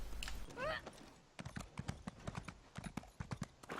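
Horse hooves clip-clopping in The Elder Scrolls Online, a steady run of close hoofbeats in quick rhythm after a brief whinny-like squeal at the start.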